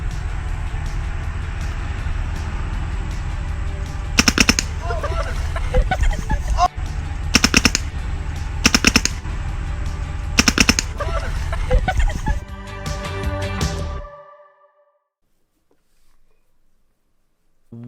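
Rapid bursts of paintball marker fire, several quick volleys of shots over a steady loud background that cuts out near the end.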